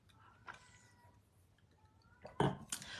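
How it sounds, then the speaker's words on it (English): A cat meows loudly outside a house, several drawn-out cries, the last ones louder and harsher, heard from some distance in a quiet room. "this cat who is horrendously loud, just meowing"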